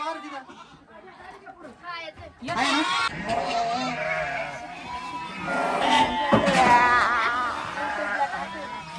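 Goats bleat repeatedly, close by, mixed with people chattering and talking over the animals.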